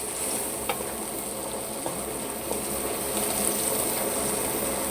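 Bone-in chicken fries for jalfrezi, a steady hiss and crackle of oil filling the pan, close and continuous with faint scraping clicks and no talking.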